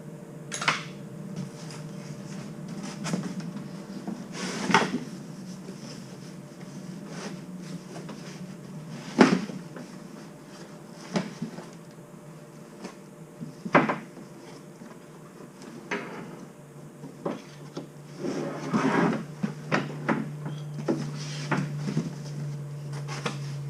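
A Forward DT08125A 5-inch bench vise unpacked from a well-packed box, with scattered cardboard rustles, thuds and knocks at irregular intervals, close by, over a quiet low hum.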